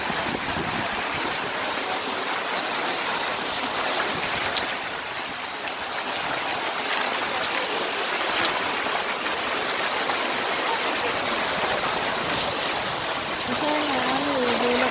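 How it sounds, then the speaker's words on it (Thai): An artificial waterfall at the Blue Lagoon geothermal spa in Iceland rushes steadily, a constant hiss of falling water, with a faint voice rising briefly near the end. "นี่น้ำตกจำลองของกายบุรกูลนะคะ"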